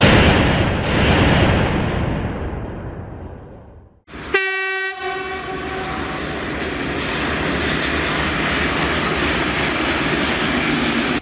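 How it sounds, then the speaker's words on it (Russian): A train rumbles past close by, loud and continuous, with a sharp horn blast cutting in partway through before the heavy rolling noise carries on. "Сегодня такое вот у меня колоритное место возле железной дороги."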